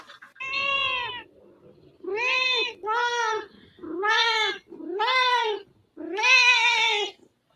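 A cat meows six times in a row, loud and close, each a drawn-out call, with brief silent pauses between them and the last one the longest and most insistent.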